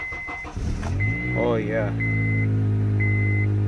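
Car with a new Eliminator Ultra AGM battery, 276,842 km on the clock, cranks briefly and fires up into a steady idle, with a repeating electronic chime in the cabin and a voice speaking over it.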